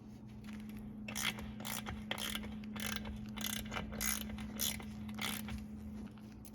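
A ratchet tightens a small 8mm bolt on an oil tank being installed on a Yamaha YXZ side-by-side, with a loud run of about nine quick clicking strokes over a steady low hum.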